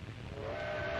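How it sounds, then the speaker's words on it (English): A steam train rumbles and rattles steadily along the tracks, a continuous mechanical clatter with a faint whistle-like tone rising toward the end. "The train rattles across desolate country the Italians will have to fight across."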